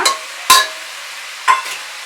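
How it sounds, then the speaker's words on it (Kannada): Chopped tomato goes into chicken frying in a pan for a natal-style biryani, heard as three sharp stirring scrapes with a short sizzle after each one, loud and close. "ಇವಾಗ ಇದಕ್ಕೆ ಸ್ವಲ್ಪ ಟೊಮೊಟೊ ಕಟ್ ಮಾಡಿ ಇಟ್ಕೊಂಡಿದ್ದೀವಲ್ಲ ಅದನ್ನ ಆ್ಯಡ್ ಮಾಡ್ಕೊಳ್ಳೋಣ."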